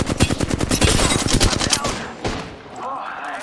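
Rapid automatic gunfire in the Overwatch video game, a fast loud burst of shots for about two seconds that then breaks off into scattered fainter noises, with some voice beneath.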